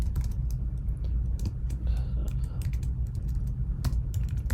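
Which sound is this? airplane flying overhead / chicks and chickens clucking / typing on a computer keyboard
typing on a computer keyboard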